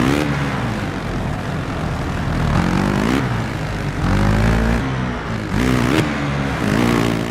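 Motocross bike engine in the MXGP video game, a steady loud drone with rising and falling revs as the throttle is worked, continuous with no talk.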